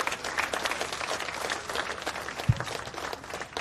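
A crowd at a veterans' event in Hemet, California applauds steadily for several seconds. The clapping is dense and sustained, with one sharp louder thump partway through.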